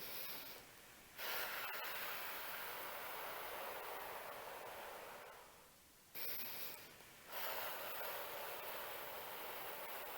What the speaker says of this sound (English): we purse our lips and we imagine that we're blowing through a straw, and that will naturally lengthen our exhale